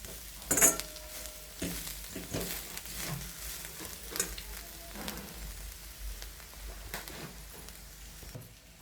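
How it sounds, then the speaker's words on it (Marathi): Ingredients for a rustic cluster-bean (gavar) vegetable dish being stirred and roasted in a pan over medium-low heat, with a soft steady crackle broken by irregular scraping knocks of the spoon, moderately close and fairly quiet. "हे साहित्य परतून घ्यायचं"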